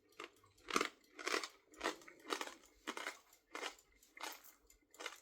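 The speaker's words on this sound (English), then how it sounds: "So they're really good. They're crispy." Crunchy roasted coffee beans chewed close to the mic as a snack, about eight crisp bites and crunches in a slow, regular rhythm with quiet gaps between them.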